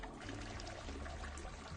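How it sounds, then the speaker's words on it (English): Running water flows faintly and steadily in a bathroom in the sci-fi post-apocalyptic RPG Encased, a soft continuous trickle with nothing else over it. "Sound of running water."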